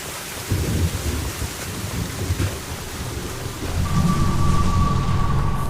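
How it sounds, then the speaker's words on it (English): Steady heavy rain in the Mass Effect 2 video game pours over a low rumble of thunder, growing denser and louder toward the end, with no voices. "let's get out of this rain"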